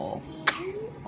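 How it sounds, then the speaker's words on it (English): A single short, sharp cough from a sick baby, close by, with faint vocal sounds before and after. "Oh, poor little cough."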